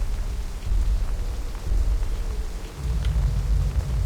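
Low rumbling thunder rolls beneath a steady wash of rain in a video game, the booming swells rising and falling continuously across the whole stretch with no voices.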